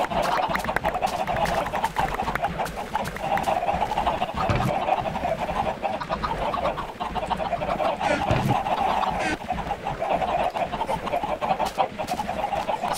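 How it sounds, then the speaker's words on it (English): Chickens on a large protected farm in a Minecraft hardcore server game cluck and squawk steadily throughout, a busy layered flock sound at moderate level with no talk. "So I have 121 chickens currently."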